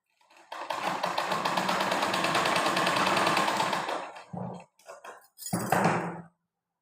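A sewing machine stitching a blouse runs in one steady, continuous burst for several seconds, then stops, followed by a few brief handling clatters nearby.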